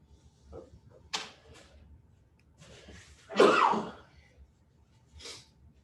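A single sharp sneeze, close by, preceded by a few quiet breaths and small sounds, with a faint exhale afterward.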